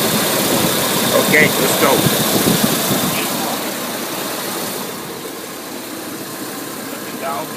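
A moving truck's engine idles with a wobbly power steering pump pulley, giving a steady close rumble that eases slightly toward the end while people talk over it.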